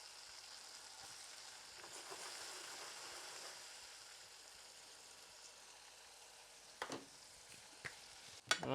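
Meatballs frying in hot oil in a pan, a soft continuous sizzle heard close but fairly faint, with a few sharper pops and spits near the end.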